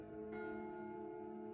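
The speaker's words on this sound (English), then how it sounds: "a bell rang over the PA system. 3 loud clangs, one after the other." Bell clanging over a PA system: a faint, tonal, church-like bell strike rings out with a long sustained hum, and a second strike follows shortly after, heard on its own.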